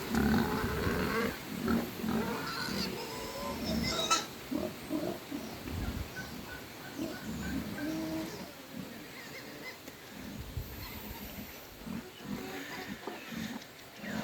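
Low pig grunts and snorts come and go against a noisy farmyard background, fairly close, with no one talking.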